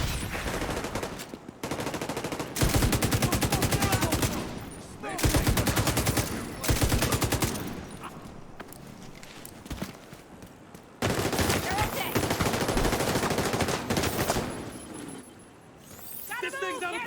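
Heavy automatic gunfire in The Division 2 comes in long, loud sustained bursts with short pauses in between, the rattling volleys mixed with game voices and radio chatter.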